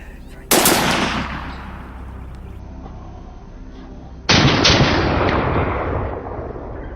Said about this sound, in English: I aimed straight for the head and fired. The gunshot rang out, clear and final.